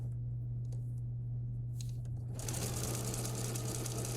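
A sewing machine stitching a patch pocket: a faint tapping start, then a steady close whirring run of stitches over a constant low electric hum, with no voice.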